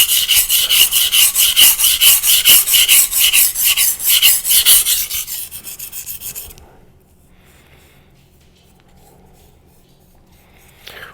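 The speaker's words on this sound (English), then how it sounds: "Obviously, a 200 grit's going to make quick work." A knife blade rasps rhythmically back and forth across a 200 grit ceramic whetstone in loud, even strokes for several seconds, then the scraping stops and only faint quiet remains.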